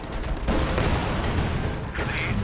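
Pak 43 anti-tank gun firing at a Sherman tank in the game Company of Heroes 2, heard as a dense mix of booming shots and battle noise, loud and continuous, with a sharper report near the end.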